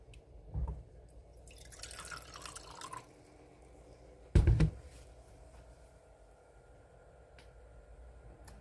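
A ResinCrete mix is poured into molds, giving a few soft wet drips and splashes with a louder thick plop partway through, close and quiet against a faint room background.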